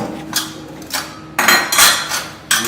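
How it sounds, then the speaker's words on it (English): A Salad Master food processor slices two onions with its number 3 cone, giving repeated bursts of scraping, rattling cuts with short pauses between them and no talking. "so I'm going to slice my onions. 2 onions with comb number 3."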